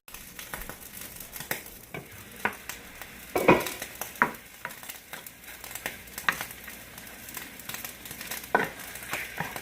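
Chicken and steak fajitas cook in a covered pan, giving a steady low sizzle broken by occasional stirring clatter and scraping, with no talking.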